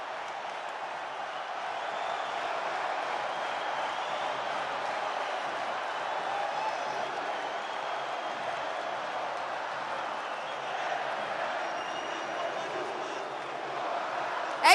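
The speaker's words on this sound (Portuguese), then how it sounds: "tá aí a comemoração da torcida do Flamengo com o time do Flamengo" Flamengo supporters celebrating with the team at Maracanã stadium, a broad, distant crowd roar that stays steady throughout, with a commentator's voice faintly over it.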